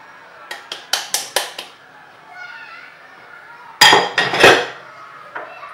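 Butter and icing sugar being creamed in a bowl for cigarette russe biscuits: a quick run of sharp clinking scrapes, a softer pause, then a louder burst of utensil knocks against the bowl, close and distinct.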